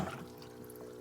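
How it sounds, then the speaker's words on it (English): Salt water is poured into a cooler box for caught fish, giving a steady close splash and trickle through the short moment. "we just chuck some of the water in"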